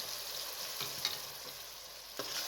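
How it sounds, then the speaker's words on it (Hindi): Ground onion and whole garam masala spices sizzling in hot oil, a steady close hiss with a few soft stirring scrapes and clinks. "जैसे ही ऑयल गर्म हो जाए तो इसके अंदर ग्राइंड किया हुआ जो प्याज है उसको शामिल कर दें।"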